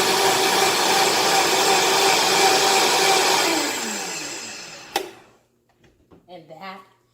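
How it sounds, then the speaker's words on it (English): A blender whirs steadily and loudly for several seconds with hot water inside to rinse it, then winds down. A loud clunk follows, and a person speaks quietly afterward. "I'm going to let the blender rinse it for me"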